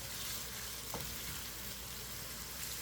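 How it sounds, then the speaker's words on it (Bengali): Spices sauté with onion paste in a pan while making egg bhuna. A steady, quiet sizzle and frying hiss runs throughout, with a faint stir near the middle. "দিয়ে আমি এটাকে এই পেঁয়াজের পেস্টের সাথে ভালো করে একটু কষিয়ে নিব"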